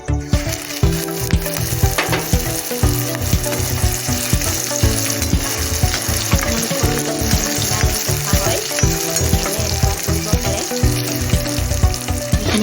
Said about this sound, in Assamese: কেৰাহীখন মই বহাই লৈছোঁ আৰু ইয়াত মই অকণমান হালধি দি দিম এইখিনি দি মই এতিয়া দিম জলকীয়াখিনি